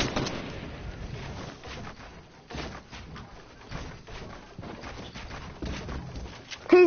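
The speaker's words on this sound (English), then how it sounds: "He's getting shot at." Gunfire in the video game Fortnite: rapid, uneven bursts of distant, muffled shots and impacts that continue throughout, with brief pauses, while players talk over the top.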